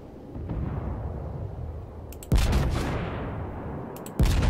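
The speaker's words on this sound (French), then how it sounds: "J'adore le bruit des obus" Naval gunfire from the British battleship HMS Warspite in the World of Warships game: two heavy salvo blasts, the first rolling into a long decaying boom, the second cut short, over a low droning ambience.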